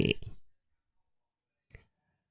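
A mouse clicks the OK button in the Total Commander file manager during file packing. A close, crisp burst opens, followed by silence and then a single short click.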